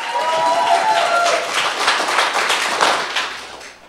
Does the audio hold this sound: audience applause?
yes